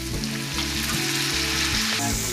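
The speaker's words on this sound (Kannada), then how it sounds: "ಚೆನ್ನಾಗಿ ಫ್ರೈ ಮಾಡ್ಕೊಳ್ಳೋಣ." Food frying in a pan with salt, asafoetida and tamarind juice, a steady loud sizzle broken by rhythmic scrapes and knocks of a spoon stirring and mixing, without any voices.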